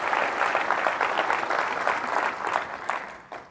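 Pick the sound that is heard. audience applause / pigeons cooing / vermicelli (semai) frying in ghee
audience applause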